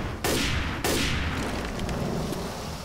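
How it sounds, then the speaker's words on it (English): Explosion in the Left 4 Dead 2 mod Dead Echo 2: two sharp booming blasts in quick succession, loud and close, followed by a fading rumble with no talking. "the explosion was good at letting me know where I needed to go"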